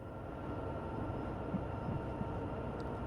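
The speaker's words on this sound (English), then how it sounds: "He does love a bit of shunting. Quick shunt around the yard." A locomotive in a train video game shunts slowly around the yard, a steady low rumbling drone that holds level throughout, with no voices.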